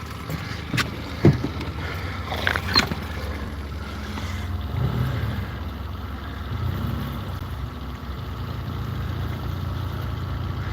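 A paramotor's small two-stroke engine runs after a pull start, a steady low drone with a few sharp knocks and clatters near the beginning, then a continuous hum.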